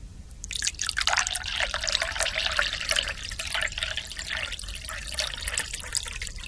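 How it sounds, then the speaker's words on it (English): Liquid pours steadily from a jug in a quiet studio, a continuous close splashing trickle lasting several seconds that starts abruptly and keeps going at an even level. "Katie, I'm going to start pouring now."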